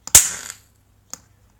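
Remote-fired electric igniter lighting a visco fuse for firework cue 1 on a tabletop: a sharp close pop with a brief fizzing hiss trailing off, then a second small click about a second later.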